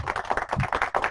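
Burst of canned applause, a dense patter of many hands clapping close and steady for about a second, with no voices over it.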